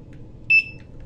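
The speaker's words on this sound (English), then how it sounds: "and you'll hear a beep" A single short electronic beep from a barcode scanner reading a W-2 form in tax software, brief and high-pitched over a faint background hum.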